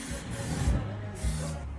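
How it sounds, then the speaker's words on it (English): Shine spray misted onto the body of a car, a 2016 M4, in two short hissing bursts about a second apart over a low background rumble. "this shiny spray comes out really good"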